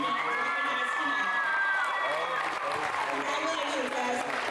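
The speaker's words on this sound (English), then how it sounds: "please give a round of applause for all our 8th grade JCHS recognized tonight" A crowd in a high school gym claps, cheers and whoops for recognized 8th graders at a girls' game, loud and continuous with shouting voices mixed through.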